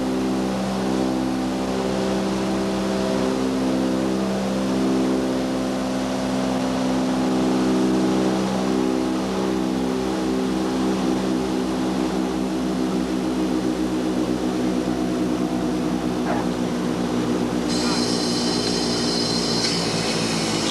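Propeller engines of a C-47 transport aircraft drone steadily and loudly throughout, a deep continuous roar with layered harmonic throbbing, heard near and alone with no talking.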